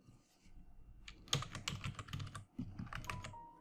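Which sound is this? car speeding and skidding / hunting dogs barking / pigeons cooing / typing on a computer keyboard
typing on a computer keyboard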